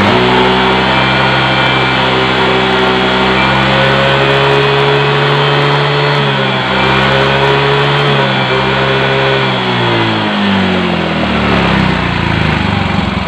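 A Yamaha Mio M3/125/Z scooter engine runs loudly and close up for the whole stretch. It rises steadily in a sustained rev, climbs sharply near the end, and is heard with no talking.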